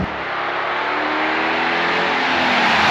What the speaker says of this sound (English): the car just wafts along with that V8 barking in the